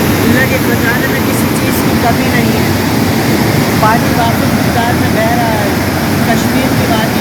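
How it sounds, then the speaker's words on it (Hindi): Abundant water flowing through a Kashmir valley, a loud, continuous rushing roar like a stream or small waterfall, steady and close for the whole stretch. "पानी वाक़ई मिक़दार में बह रहा है"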